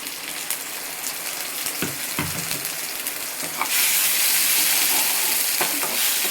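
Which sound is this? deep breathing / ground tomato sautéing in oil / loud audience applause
ground tomato sautéing in oil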